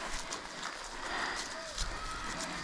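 Horses clip-clop nearby on a farm, a few soft irregular hoof knocks over a low background hum, with faint voices and sounds around them.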